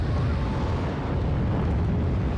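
A loud, sustained explosive roar from the 2004 film Dawn of the Dead, broad and rumbling, filling the whole clip without pause and no voices.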